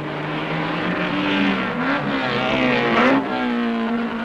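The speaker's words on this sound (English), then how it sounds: "Terry Hunter using up a lot of road at that hairpin with his privately entered Porsche." A privately entered Porsche race car from a 1968 saloon car race rounds a hairpin, its engine note rising and dipping loudly and continuously as it accelerates out of the bend.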